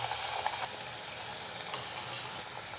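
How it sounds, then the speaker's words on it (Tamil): Ragi onion pakoda dough sizzles steadily in hot oil, a dense continuous frying hiss heard close with no talking. "இந்த மாதிரி மெலுசாக தட்டி நம்ம சூடான எண்ணெயில் போட்டு பொரிச்சு எடுத்துக்கலாம்"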